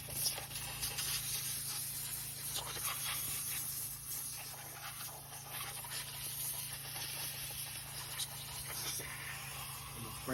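Steam cleaner spraying into a dirty car cup holder during interior detailing; a continuous close hiss with a steady low hum beneath, fluctuating slightly as the nozzle moves.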